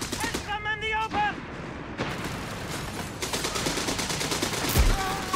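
Gunfire crackles through a Company of Heroes 3 real-time strategy battle, with scattered shots and bursts layered over busy battlefield ambience and game voice lines.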